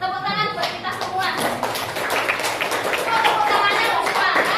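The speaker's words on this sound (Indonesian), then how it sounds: "Tepuk tangan buat kita semua." A group of people claps together at a school coaching event, a dense burst of many hands applauding that builds and stays steady, with voices mixed in.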